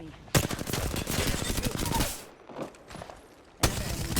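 Automatic weapon fire from the Apex Legends video game rattles in long, loud bursts, pauses briefly, then resumes with a sharp new volley.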